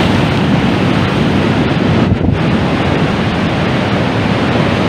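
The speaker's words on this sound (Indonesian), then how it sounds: "seperti inilah deru ombak deras yang mengalir di Pantai Sungai Suci di Kabupaten Bengkulu Tengah ini" Rushing ocean waves at Sungai Suci beach in Bengkulu Tengah, a loud continuous roar of surf and spray filling the whole stretch, close and unbroken, with no voices.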